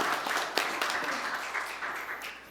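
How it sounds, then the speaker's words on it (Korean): Congregation applause during a Sunday church worship service, a steady wash of many hands clapping for a couple of seconds without speech. "크게 영광의 박수를 돌리겠습니다."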